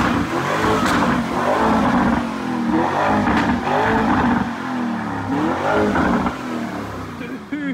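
A wrecked Lamborghini Urus, started after months of sitting, revs loudly and repeatedly up close, its engine rising and falling throughout while people talk over it.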